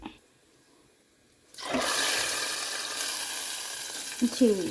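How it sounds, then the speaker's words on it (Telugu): After near silence, hot tempering is poured into tomato rasam and erupts in a sudden loud sizzle. The hiss stays strong and steady, with a few clinks of the pan near the end. "ఈ పోపును టమాటా చారులు వేయడమే"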